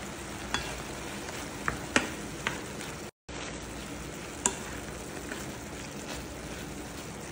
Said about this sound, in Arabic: هذا البصل تو قطعناه، بضيفه الحين علشان يدبر ويستوي معاه